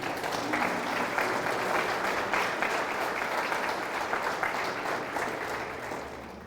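Church congregation applauding steadily for several seconds, a dense, sustained clapping that fills the room at even loudness before tapering slightly at the end.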